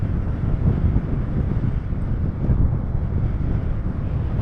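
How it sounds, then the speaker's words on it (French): Strong wind buffets the microphone on a blustery paragliding outing, giving a continuous low, rumbling roar with gusty swells and no speech. "Là ça souffle, il y a du vent aujourd'hui."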